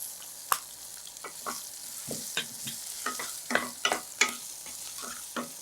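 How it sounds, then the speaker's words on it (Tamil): Chopped ginger and green chilies frying in hot oil for a South Indian tamarind-ginger dish, a soft sizzle under repeated close scrapes and taps of a spatula stirring in the pan, with no voices. "இந்த பச்சை மிளகாவோட கட் பண்ணி வச்சுருக்கிற இஞ்சி சேர்த்துக்கலாம்"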